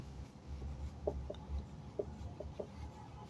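A marker or chalk scratches across a classroom board in short, steady strokes, with soft scrapes and small taps that come back at a regular pace. The sound is quiet and close.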